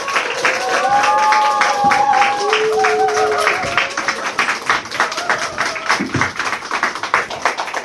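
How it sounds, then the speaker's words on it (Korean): Audience clapping fills a cinema as a film director and two actors are welcomed onto the stage for a post-screening talk; steady, dense claps mix with a sustained musical tone, thinning out toward the end. "큰 박수 부탁드립니다."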